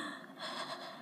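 A woman imitates a demon's breathing, one short harsh gasping breath, close and rough, with no other sound.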